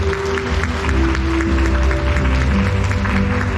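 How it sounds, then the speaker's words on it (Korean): At an exhibition opening at a provincial art museum, an audience claps steadily to welcome a speaker to the stage, a continuous moderate patter over a low hum. "여러분 박수로 환영할까요?"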